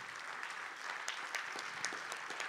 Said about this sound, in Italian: Ancora farei un grande applauso ai nostri Alessandro Zenoni e Luigi Belicchi,